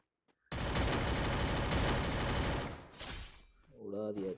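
Loud, dense automatic gunfire in the Free Fire battle royale game erupts abruptly and rattles nonstop for about two seconds, then cuts off, and a voice speaks afterward.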